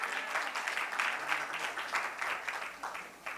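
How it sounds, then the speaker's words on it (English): Audience applause at a weekly devotional gathering and graduation ceremony, a steady patter of many hands clapping throughout, moderately close with a few voices mixed in. "So really a big round of applause for them for keeping that."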